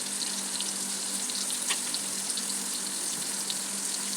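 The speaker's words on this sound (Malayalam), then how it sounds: "ഇനി അതിലേക്ക് വെളിച്ചെണ്ണ ഒഴിച്ചു കൊടുക്കണം." Coconut oil poured into a simmering fish curry, with a steady, close hiss of sizzling and bubbling throughout and no talking.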